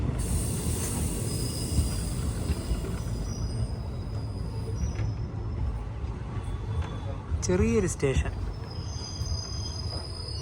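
An express train from Chikkamagaluru to Bengaluru rolls into the small Kanivehalli station, heard from inside a general class coach as a steady rumble with a brief wheel squeal and faint voices.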